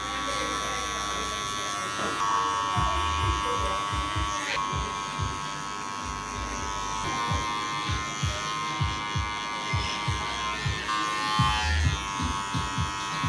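Electric hair clipper with a 1 to 1.5 guard working a low zero fade, a continuous close buzz that dips and rises as it is rocked up and off the head, under steady talk from a barber.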